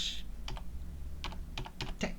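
Keys clatter on a computer keyboard in short, irregular bursts of clicks, close by and fairly quiet, over a low hum.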